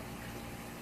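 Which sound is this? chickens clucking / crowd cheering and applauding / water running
water running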